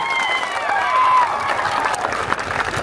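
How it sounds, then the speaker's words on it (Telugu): Audience applause for the people of Kanukurthi village at a spiritual gathering, a dense, steady burst of many hands clapping that swells and continues throughout, with a few voices mixed in. "ప్రత్యేకంగా కానుకుర్తి గ్రామ ప్రజలకు గట్టిగా చప్పట్లు కొట్టండి ఒకసారి."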